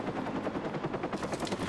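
A helicopter in Watch Dogs gives off rapid rhythmic rotor chopping, a dense pulsing thrum that holds steady and moderately loud across the short stretch.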